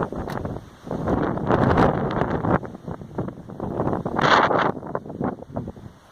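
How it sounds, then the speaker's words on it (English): Strong wind gusting at 30 to 40 miles per hour on an outdoor cycling route, buffeting the microphone in rough, uneven bursts that swell and fade with no voices. "Okay, as you can see, we have incredibly strong winds today."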